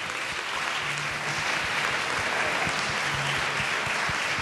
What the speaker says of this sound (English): I think we can give another applause to Steve then.